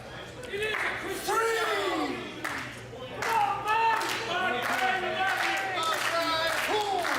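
Wrestling main-event crowd in Ridgefield Park, New Jersey, clapping in bursts and cheering over and over, with a commentator talking over the noise.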